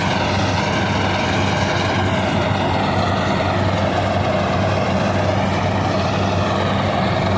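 A farm tractor's engine runs loud and steady nearby, a continuous droning rumble with no pauses or voices.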